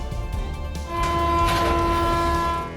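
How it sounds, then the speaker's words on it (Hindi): A train sounds a steady, loud horn at a rail crossing, where it hits a truck, with rumbling rail noise beneath the sustained tone. "ट्रेन आई और ट्रक को टक्कर मारती चली गई।"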